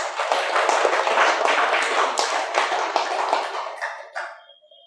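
An audience at an Ugadi festival celebration bursts into loud, sustained clapping that carries on steadily before tapering off with a few last claps.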